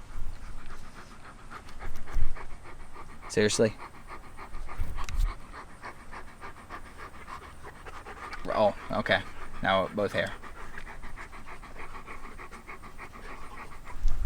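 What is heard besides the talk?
dog panting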